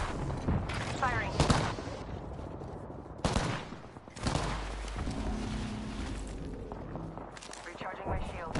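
A video game shootout brings dense volleys of rapid gunfire and booming blasts at close range, with a voice speaking throughout.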